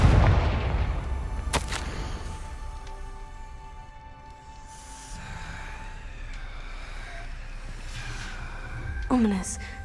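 Confringo blasting curse going off in the video game Hogwarts Legacy, a sharp loud burst near the start followed by rumbling game ambience, with another brief blast and rising whoosh near the end.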